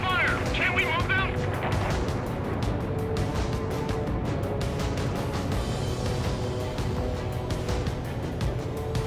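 Gunfire and explosions pound radar vehicles in the video game Ace Combat 7, a dense run of rapid shots and booms throughout, with voices talking over the battle.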